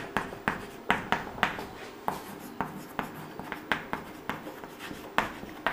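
A pen scratches out a maths solution on paper, giving quick, irregular taps and strokes with short pauses between marks, close and quiet with no talk.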